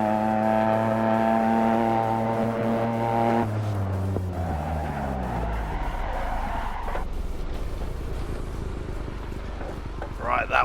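A Toyota GR Yaris corners hard on the Anglesey circuit, its steady engine note dropping away as tires squeal and scrub through the bend, with a driver talking over the noise.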